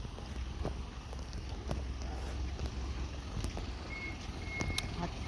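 An outdoor breeze by a canal buffets the microphone in a continuous low rumble, with faint scattered clicks and a brief distant tone in the background.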